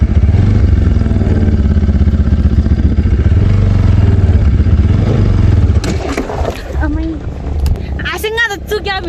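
Motorcycle engine running steadily and loud while being ridden on a hilly route toward Haveban Danda, with clattering and scraping; the engine drone dominates early, then talk and rattles take over near the end.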